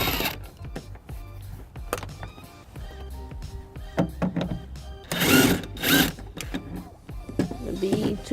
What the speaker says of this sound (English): taking off the bolt.